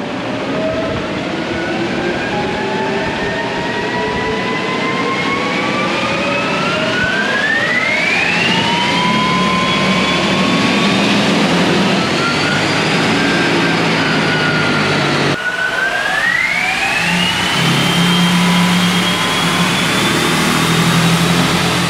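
A 2022 Ford Lightning electric pickup running hard on dyno rollers gives off a loud, steady whine that climbs in pitch, drops back abruptly, then rises again, with constant roller roar beneath and no talking.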